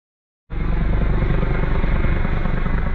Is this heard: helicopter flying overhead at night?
yes